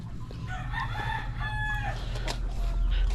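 Layer hens on a farm cluck and call close by, with rooster-like crowing phrases rising over a low rumble of background noise, several birds overlapping.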